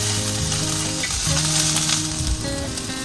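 Potatoes, onion, garlic and chili stir-frying with curry leaves in a hot pan, a steady loud sizzle with faint stirring scrapes and no talking.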